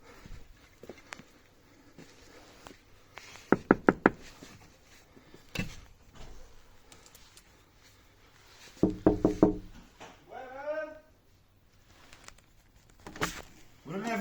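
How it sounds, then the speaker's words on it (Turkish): Someone knocks on a door at night in two quick bursts of several sharp raps, the second coming a few seconds after the first, with people talking quietly between and after the knocks. "Gece gece kapıyı çalacağız."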